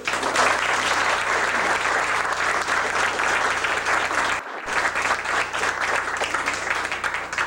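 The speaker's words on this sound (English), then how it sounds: "I hope you'll welcome, with a warm round of applause, Mal Bellairs." A museum audience welcomes a guest with loud, sustained applause from many hands. It is continuous and dense, with a brief dip partway through before it resumes at full strength.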